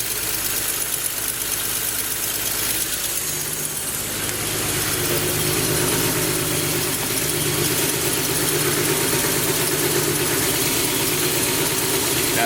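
A car engine idles steadily close by, its exhaust made from a turbo, a loud continuous low rumble that thickens slightly partway through.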